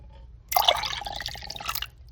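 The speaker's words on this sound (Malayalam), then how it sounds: "ഇനി ഞാനത് അതിനകത്ത് വൺ കപ്പ് കോൾഡ് വാട്ടർ" Cold water being poured into a pineapple jelly pudding mixture, a steady close splashing pour lasting under two seconds after a brief quiet start.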